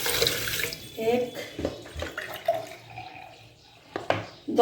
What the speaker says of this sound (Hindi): 2 गिलास मैंने पानी डाला है।